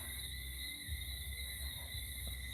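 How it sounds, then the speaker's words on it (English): Crickets chirp outdoors in a steady, continuous high-pitched trill that stays at an even level throughout, with low rumbling background noise beneath. "ER, it's your friends, the crickets."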